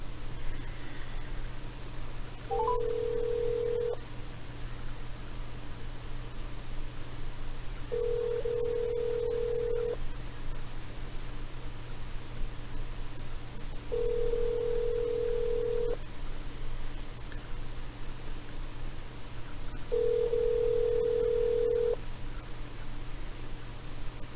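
A telephone call to a contact's number rings unanswered, four long evenly spaced ring tones over a steady background hum, with no voice picking up and no voicemail.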